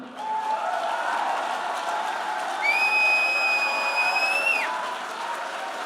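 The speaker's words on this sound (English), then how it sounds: "Hold your applause for the man and give it up for the beanie as you welcome Tim Pool." A panel-show audience applauds and cheers steadily, with a loud, drawn-out whistle cutting through the noise partway through.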